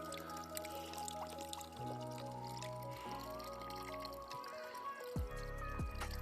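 A small mountain waterfall stream trickles and drips close by in a steady, quiet flow. A few sharper splashes and pours break in toward the end.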